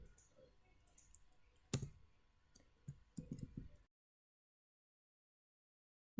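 Keyboard keys click in short, quiet bursts as a line of code is typed, with a couple of sharper taps, then near silence.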